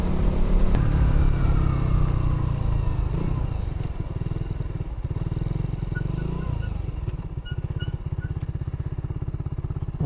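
A motorcycle passes at a tourist spot near the Montemaria glass walk in Batangas, its engine loud and close with a steady drone, a revving rise midway, then a rapid idling putter.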